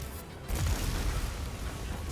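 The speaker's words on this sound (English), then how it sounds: "Oh, it's such a big fucking explosion, man" A big explosion in a video game booms out as a broad, rumbling burst that swells after a brief lull and then rolls on as a sustained low roar.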